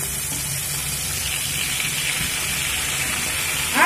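Pre-cut radish and potato dropped into hot oil, a loud, broad, continuous sizzle close by that holds steady throughout, ending with a faint clink.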